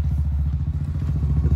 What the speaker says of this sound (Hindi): जो गाड़ी है वो गाड़ी जा रही है बाइक